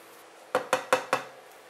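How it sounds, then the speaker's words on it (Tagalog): Butter and flour roux being stirred in a pan, heard as four evenly spaced metallic scrapes and clinks of a utensil against the pan, close and fairly quiet, with no talking. "Continuous lang yung halo natin."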